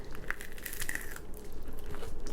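Crispy air-fried food cooked in an Instant Pot air fryer lid being bitten and chewed close up, giving a dense run of crackly crunches across the clip with no talking.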